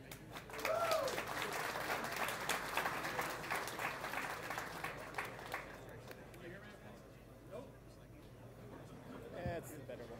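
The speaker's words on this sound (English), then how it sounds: "Let's give Dave a big round of applause." A small audience at a security conference talk claps for a speaker, the applause fairly faint and fading out after several seconds, with talking heard around it.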